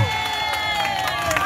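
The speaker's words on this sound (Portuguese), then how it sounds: "Palmas pra Marta!" Guests at a grandmother's birthday party clap and cheer for Marta, a brief busy patter of hands mixed with voices and background music-like tones, continuous and moderately loud.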